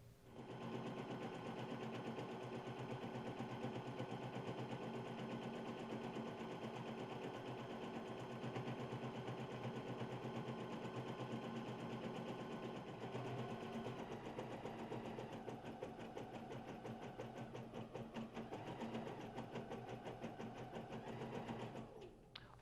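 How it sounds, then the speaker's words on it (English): Embroidery machine stitching a monogram onto a towel, a steady fast mechanical needle rattle and hum running continuously for over twenty seconds, close and even, stopping abruptly at the end with no talk. "you can install it in the machine and we'll get to stitching"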